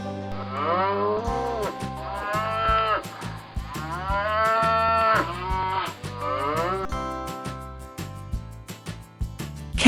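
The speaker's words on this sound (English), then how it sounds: "Cow." Cattle mooing in several long, drawn-out calls over a steady musical backing track, in a children's animal sounds lesson.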